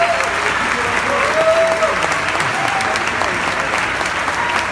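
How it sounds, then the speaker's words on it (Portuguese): An audience at a church event breaks into loud, continuous applause that welcomes a pastor to the stage, steady and dense throughout with faint crowd murmur underneath. "vamos receber com aplauso"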